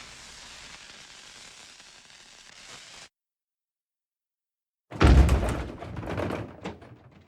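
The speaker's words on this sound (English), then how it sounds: "The racket from the cannon was more devastating than the shell itself" A cannon fires in the Willy Morgan adventure game: a sudden loud blast with a rumbling, crackling tail follows a few seconds of silence, after an earlier stretch of steady low noise.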